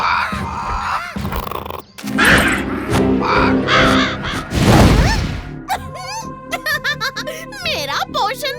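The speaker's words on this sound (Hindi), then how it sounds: "भीम कौवा आपकी खिदमत में हाजिर है" A cartoon crow in a Chhota Bheem episode lets out harsh, repeated caws among animated voices and busy background sound.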